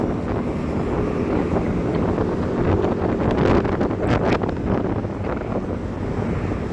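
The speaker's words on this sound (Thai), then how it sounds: "สายลมเข้าตัวสับอย่างแรงเลย เพราะว่าลมมันแรง" Strong wind buffets the microphone while someone runs outdoors behind a government complex, making a loud, continuous roaring rumble that swells and fades in gusts.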